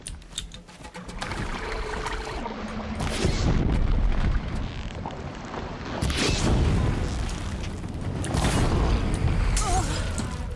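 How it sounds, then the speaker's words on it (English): A small blaze canister explodes in Horizon Zero Dawn during a fight with machines, giving loud, rumbling booming bursts over continuous game ambience and effects. "That is a big explosion for such a small canister of blaze."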